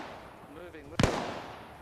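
One sharp gunshot in World of Tanks cracks out loud and close, following a short stretch of murmured voice, with a brief fading tail after it.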